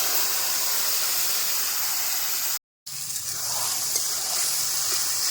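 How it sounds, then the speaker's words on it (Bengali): Potatoes going into hot oil in a pan in a village kitchen, a continuous hissing sizzle broken by a brief cut of silence before the frying noise resumes, close and fairly loud. "এবার মাহের আলুগুলো দিয়ে দেবো"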